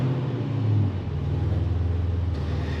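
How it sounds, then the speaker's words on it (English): A car engine idles with a steady, close low rumble, showing a slight swell early on before settling into an even running drone, with no talking. "First thing I'm going to do is start the car because I haven't started in a while."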